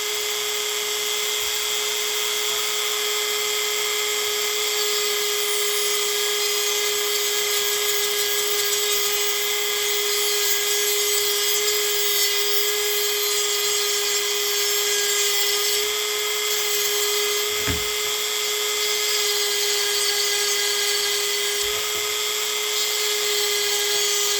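A Dremel rotary tool grinds the teeth of a chainsaw chain with a continuous, loud high-pitched whine that holds steady throughout.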